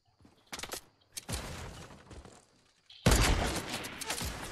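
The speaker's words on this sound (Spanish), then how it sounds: "Me están disparando los dos, por cierto." Gunfire in the Fortnite video game: several short bursts of shots early on, then a louder, denser barrage near the end, with no talking over it.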